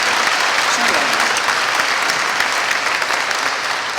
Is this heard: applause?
yes